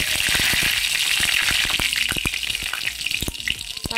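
Dried red chillies and bay leaves go into hot oil one after another while cooking with pumpkin seeds, producing a loud, continuous crackling sizzle dense with sharp pops throughout, with no voices.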